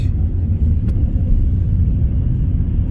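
A car drives steadily along a road, its low engine rumble and tire noise continuous and close, with no talking.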